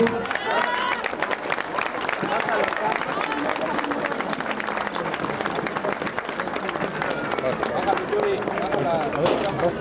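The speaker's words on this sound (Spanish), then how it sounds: "Un aplauso, por favor" A crowd claps at an outdoor ceremony crowning the first stone of a sports complex in Teoloyucan, dense sustained applause mixed with murmuring voices and some speech throughout.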